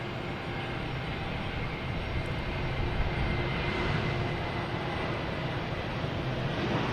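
Steady, continuous roar of a JetBlue Airbus A320 jet at Boston Logan Airport, a broad engine rumble holding level throughout with no voices.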